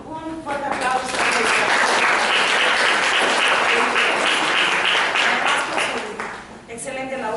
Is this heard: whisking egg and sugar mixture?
no